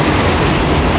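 Black Sea surf breaking on a Crimean hotel beach, a loud, broadband wash of waves with wind buffeting the microphone, brief and continuous.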